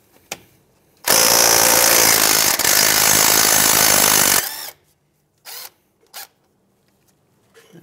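Loud burst of a power tool, likely an impact tool or ratchet, working a 12 mm brake line fitting on a 2011-2017 Honda Odyssey front strut, running about three seconds and followed by a few short clanks.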